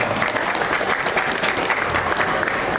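An audience claps steadily for a scholarship award at the IEL International School closing ceremony, a dense, even wash of applause that keeps the same loudness throughout with no break.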